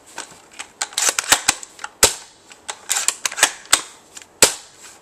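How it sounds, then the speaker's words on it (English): An AGM L96 AWP airsoft sniper rifle is bolted and fired repeatedly, giving a string of sharp, loud clacks and snaps at irregular intervals, close by with no talking. "Here it is bolting again."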